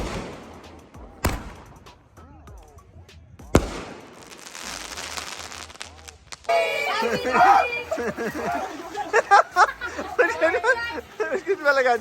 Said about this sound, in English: We just finished the fireworks.